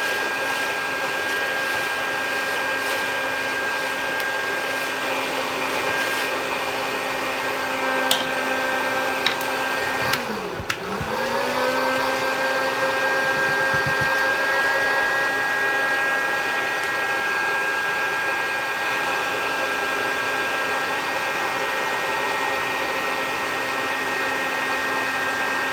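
A hot-air popcorn popper roasting coffee beans gives a steady, loud fan-and-heater whir with airy noise that runs unbroken. A brief dip and pitch wobble comes near the middle.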